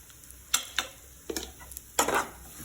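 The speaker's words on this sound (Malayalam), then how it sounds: "നന്നായി ഇളക്കുക." Grated coconut and coriander powder being stirred in a pan for a curry, several soft separate scraping strokes at a gentle uneven rhythm over a faint sizzle, close by with no talking.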